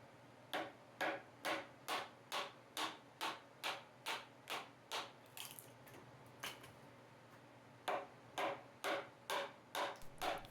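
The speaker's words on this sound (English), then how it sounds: "the chisel is making quick work of the waste" Chisel chopping out waste wood for a joint, a run of regular sharp knocks about twice a second, close and fairly loud, pausing briefly midway before a second burst of evenly spaced blows.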